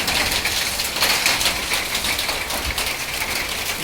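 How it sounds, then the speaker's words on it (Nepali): Heavy hail falls across open ground in Rolpa, a dense, loud, continuous patter of countless impacts with no pauses and no voices. "एकदमै चाहिँ असिनाको व्यापक असिना परिरहेको छ।"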